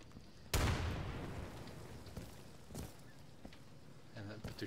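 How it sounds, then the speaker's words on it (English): A grenade blast in the tactical shooter Insurgency: one sudden loud boom that decays into a rumbling tail, followed by a few fainter thuds and pops of distant gameplay. "Let me see if I can throw a nade in there."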